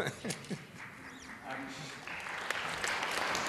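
Moderate applause from a conference audience at a European foreign relations debate, a steady patter of clapping rising gradually in the hall with some voices underneath.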